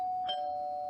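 An electronic doorbell chimes once, a steady sustained tone with a brighter strike near the start, ringing on alone without any voices.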